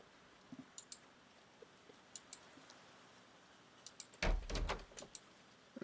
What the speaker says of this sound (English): I guess we could go in the front door.